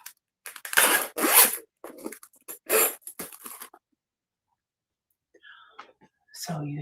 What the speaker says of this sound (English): little zipper on top.